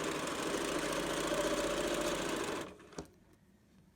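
Home sewing machine running steadily as it back stitches a zipper pouch, a continuous mechanical whir for over two seconds that slows and stops, followed by a single soft clunk and quiet handling.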